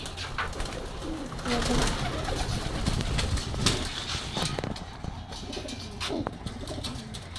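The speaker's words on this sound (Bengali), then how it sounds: "এখানে আমার কবুতরগুলো আছে।" Pigeons in a pigeon coop give low, repeated coos, with some wing flapping and a little chirping nearby, while someone talks over them now and then.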